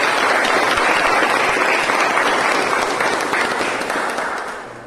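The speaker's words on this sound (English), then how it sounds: "Can we have a huge round of applause for them?" Audience applause for speakers at a speaking club meeting, a dense, loud, even wash of clapping from a full room that begins to fade near the end.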